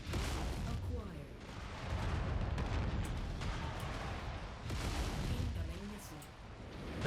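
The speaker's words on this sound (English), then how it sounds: "Yep, they're shooting missiles at me." Missiles pound a player's mech in MechWarrior 5, a continuous rumbling barrage of heavy blasts and booms that stays loud throughout, with a final sharp hit at the end.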